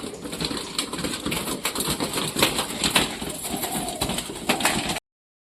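Pigeons in a loft, recently hit by illness, shuffle, flutter and coo close by, with a busy scatter of clicks and wing sounds filling the space.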